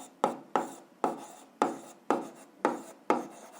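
Pen scratching across paper while solving an eighth-grade algebra exercise, seven or eight sharp strokes at an even pace, close and distinct with nothing else heard.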